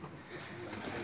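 Pakistani pigeons at a rooftop loft coo faintly amid a wash of background noise, the soft throaty murmur rising a little toward the end.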